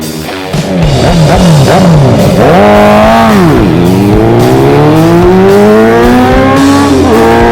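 A Honda Fireblade sport motorcycle's engine revs hard and close, climbing through several rising pulls with quick drops between shifts, loud and alone with no talking.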